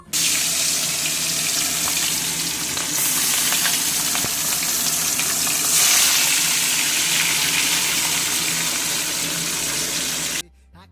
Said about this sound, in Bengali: মাছটা ভাজতে দিয়ে